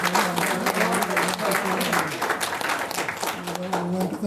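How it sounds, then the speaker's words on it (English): A roomful of attendees at a June 2017 forum on Cuba's non-state sector gives a steady, dense round of applause that holds for several seconds, with a voice faintly audible beneath the clapping. "we want to give ourselves a round of applause for holding"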